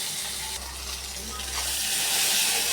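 Arum (kochu) sautéing with turmeric in a pan gives a steady, close, loud sizzle and hiss, with a faint stirring scrape partway through and no talking.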